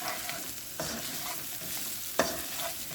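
A pot bottom is scraped while onions sauté for an udon chicken soup with bok choy. A few soft scrapes and stirs sit over a quiet, steady sizzle, with no one talking.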